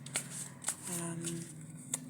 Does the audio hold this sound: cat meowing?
no